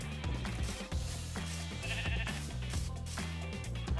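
Many sheep in the game Minecraft bleating over and over in a dense, overlapping chorus, loud and close.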